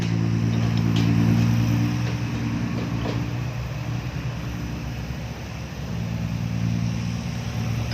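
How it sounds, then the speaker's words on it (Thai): A Hino six-wheel dump truck engine runs loudly and steadily at a rumbling, roaring pitch, with the revs easing slightly midway before building again, near and continuous. "รถเซนเตอร์นี่วนแค่นิดเดียวนะมันดังดีครับฮีโน่นี่"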